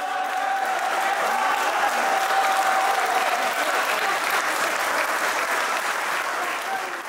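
Sustained audience applause at an Urdu mushaira poetry gathering in Dubai, a dense, even roar of many hands clapping that holds steady throughout and eases slightly at the end.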